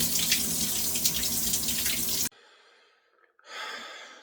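A cold shower runs loud and steady, water splashing in a constant hiss, then cuts off abruptly, leaving near silence before a brief burst of running water and a breath.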